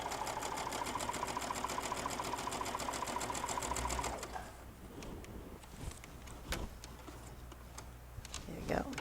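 A sewing machine stitches a quilt seam for a wall hanging in a fast, even mechanical rattle for about four seconds, then stops, leaving quiet handling clicks and a soft voice.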